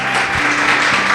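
A church congregation claps hands loudly in dense, continuous applause, a brief burst of many overlapping claps close by.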